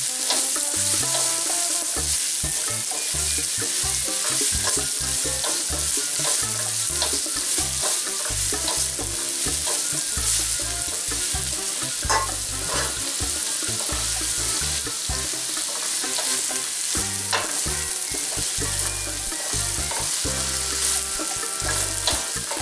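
Onion sautéing in a pan for Mexican-style cauliflower rice, stirred continuously: a constant bright sizzle with repeated scraping and clacking of the spoon against the pan throughout, no voices.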